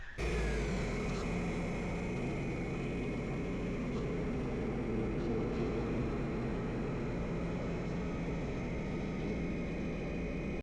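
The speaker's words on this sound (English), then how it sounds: "So run the engine for about 30 to 45 seconds." A Sea-Doo personal watercraft engine runs steadily while warming up, a constant broadband drone that holds at an even level for about ten seconds with no voices over it.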